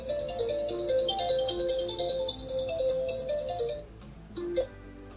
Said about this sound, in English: I'm going to make a call from this phone to my iPhone primary SIM.